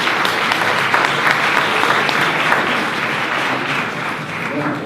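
A conference audience at an employment forum in Switzerland breaks into sustained applause, a dense, steady wash of clapping that fills the hall for several seconds with a murmur of voices underneath.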